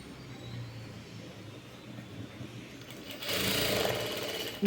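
A sewing machine stitches piping onto a blouse with a soft background whir that swells into a faster, louder mechanical rattle of needle strokes for about a second, heard up close.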